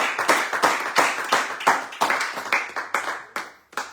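A church congregation claps together in acclaim of the Lord, sharp rhythmic bursts of many hands in a steady beat, loud and close, tapering slightly toward the end with no talk.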